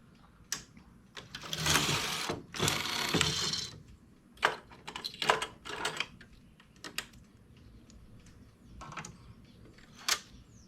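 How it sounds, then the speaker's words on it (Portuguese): A knitting machine carriage sweeps across a row, giving bursts of rattling, clacking mechanical noise followed by scattered sharp clicks and taps, close by with no talk. "Faço uma carreira, pode ser manualmente, pode ser com o carro."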